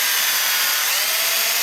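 A 6.5mm drill bit bores straight into a helmet, producing a brief, close, continuous high-pitched whirring grind at steady loudness.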